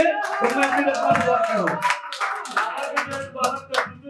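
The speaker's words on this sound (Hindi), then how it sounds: "एक बार जोर से ताली बजा के शुरुआत कीजिए" Open mic audience clapping together at a poetry event, a dense patter of hands that mixes with someone speaking over it before the clapping thins out.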